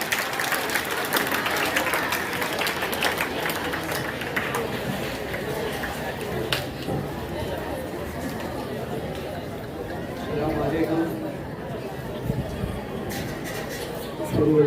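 At a student committee gathering of an Urdu high school in Bhusawal, the audience breaks into scattered, lively clapping mixed with crowd chatter and a speaking voice. The clapping swells again near the end.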